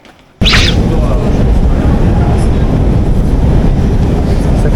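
A nearly century-old Moscow metro train roars loudly and steadily after an abrupt start, with dense rumbling rattle throughout.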